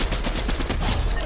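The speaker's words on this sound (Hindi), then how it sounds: "ये गन को चार्ज होने टाइम लगता है, ये वो वाली है मिनी गन जिसको घूमने लगता है ना पहले" Rapid sustained minigun fire in Fortnite, a dense continuous stream of shots filling the short stretch, loud and close.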